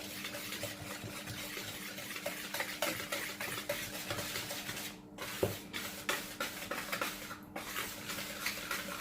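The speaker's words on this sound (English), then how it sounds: "now I'll just mix this first before adding in my butter" Flour, salt and sugar are mixed by hand in a bowl for fish roll dough, making a continuous close rubbing and stirring with soft scrapes. The sound is quiet and rhythmic, with two brief pauses.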